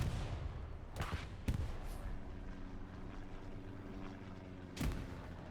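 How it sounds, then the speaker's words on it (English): Grenade blasts in a Hurtgen Forest World War II shooter match, a few sharp distant booms spaced across a steady din of battle noise, with one louder burst near the end. "Grenades coming in from Smile."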